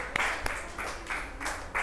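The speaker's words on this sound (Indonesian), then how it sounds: "Tepuk tangan buat kelompok 1" A classroom group applauds a student team during a teacher-training lesson, giving a steady wash of clapping with a few sharper individual claps standing out. It swells again near the end.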